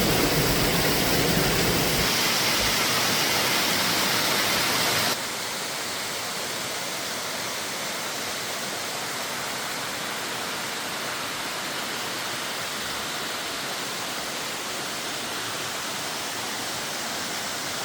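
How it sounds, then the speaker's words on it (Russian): Waterfall on a forest trail in Alanya: a steady, loud, broadband rushing roar of falling water that stays constant throughout with no talk, slightly louder and brighter at the very start. "Водопад."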